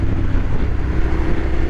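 A Suzuki SV650 motorcycle engine pulls hard in fourth gear, a loud low rumbling drone mixed with heavy wind buffeting on the microphone while riding.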